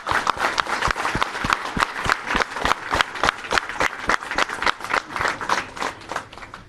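A standing crowd at a 75th birthday celebration claps in a rhythmic, fairly sparse beat, distinct hand claps ringing out with only light crowd noise behind them.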